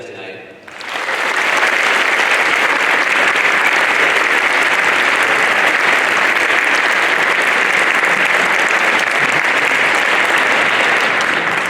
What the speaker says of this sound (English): Let's give a massive round of applause to all of tonight's panelists and speakers